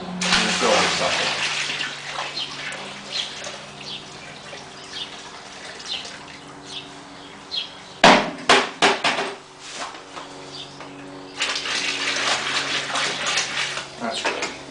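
Water pours into a large container of roughly 20 to 30 gallons, a hissing rush with a burst of clattering knocks midway before the pouring resumes.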